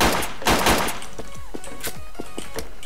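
In a video game, an M16A2 rifle fires a rapid burst of loud, close shots, followed by scattered sharper cracks and thuds as the firing tapers off.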